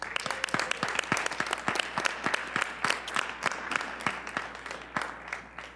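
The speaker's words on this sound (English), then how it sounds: "Can we please give them a round of applause?" An audience at a public school board meeting applauds, a dense patter of many hands clapping steadily at moderate distance for several seconds, fading slightly toward the end.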